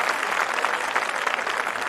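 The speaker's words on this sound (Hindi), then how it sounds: "एक बार तालियां बजा के" Steady applause from a large audience at a poetry recital, dense and even throughout with no pauses, close and fairly loud.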